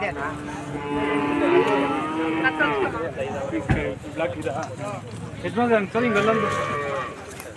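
Crossbred calves moo repeatedly at a KMF calf show, several drawn-out calls of moderate loudness mixed with people talking nearby.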